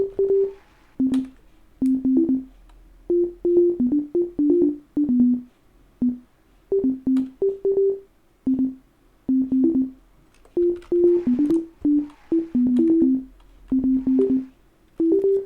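Synth notes play in short shifting chord patterns, switching irregularly with brief gaps, a bright electronic tone repeating for the whole stretch.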